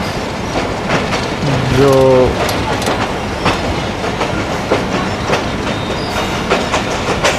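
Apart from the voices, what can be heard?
Lasani Express train running on railway track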